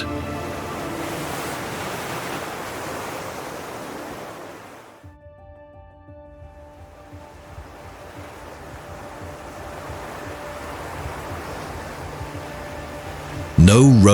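Ocean surf breaking below a cliff on Madeira, a broad steady roar of waves with a brief lull midway before the wash builds again; a sharp burst of noise cuts in at the very end.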